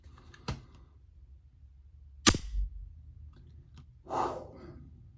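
A Kimber Custom 2 10mm auto pistol being racked, with sharp isolated metallic clicks and a louder clack, a few distinct mechanical actions spaced over several seconds in a quiet room, close to the listener.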